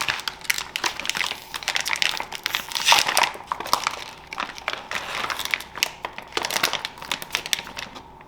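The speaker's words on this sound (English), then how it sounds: "I'm going to take it out of the packaging" Plastic packaging crinkles and crumples steadily as a beef roast is pulled free of it, a dense run of close, dry rustling bursts with no voices.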